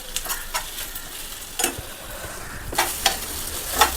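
A snake gourd and egg stir-fry is stirred in a pan, with a steady sizzle and several sharp scraping strokes of a utensil at uneven intervals, close and clear with no talking.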